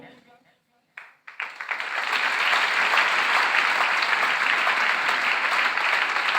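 After a brief quiet stretch with a voice and a few isolated claps, a large audience at a corporate awards event bursts into loud, sustained applause that builds quickly and stays thick and even.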